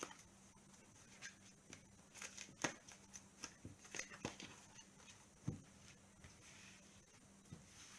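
Oracle cards being shuffled and handled, soft scattered taps and papery flicks at an irregular pace, very faint and close in an otherwise quiet room.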